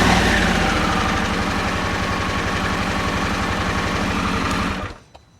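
A Harley-Davidson Sportster S motorcycle engine starts and settles into a close, loud, steady idle with an even pulsing thump, then cuts off abruptly near the end.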